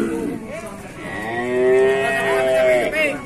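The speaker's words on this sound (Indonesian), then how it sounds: "Sapi ya." Cattle, young bulls including Limousin, Simmental and Ongole types, moo loudly and close at a livestock market, one long drawn-out low call with a second starting at the end, no talk.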